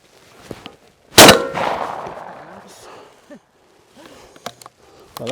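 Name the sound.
gunshot from Beretta A400 Upland semi-auto shotgun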